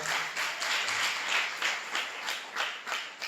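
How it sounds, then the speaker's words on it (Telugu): A church congregation at a Sunday service claps happily together, a dense, steady patter of many hands with rhythmic surges, filling the room without talk. "ఒకసారి చప్పట్లు కొట్టండి సంతోషంగా"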